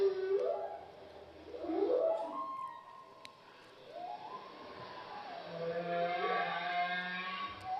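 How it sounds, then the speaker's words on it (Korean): Dolphin sounds played back through a speaker in a church setting: a series of rising and falling whistles sweep up and down, some overlapping, over a steady hiss, continuous for several seconds with no talking. "그리고 돌고래 소리도 한번 들려주시죠"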